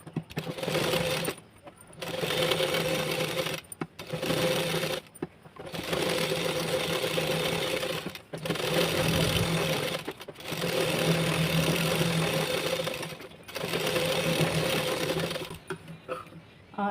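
A sewing machine stitches the lining into a blouse in several steady running bursts, each a few seconds long, separated by brief pauses. The machine is close and loud, and no voice is heard.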